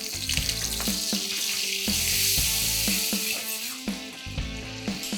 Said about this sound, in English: So I'm going to heat 2 tablespoons of oil and add 2 tablespoons of butter.